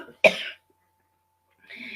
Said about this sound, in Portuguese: eu estou com um pouquinho de tosse